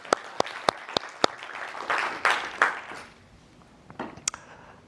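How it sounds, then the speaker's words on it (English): Sparse clapping at a Gerrit multi-site tech talk, a handful of sharp separate claps followed by a brief soft patter that quickly fades, thin and distant-sounding. "maybe a remote applause for Matthias."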